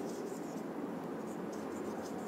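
Pen or marker writing out a Class 10 maths solution on the area of a circle a horse can graze, heard as soft continuous scratching strokes close by, with no talk over it.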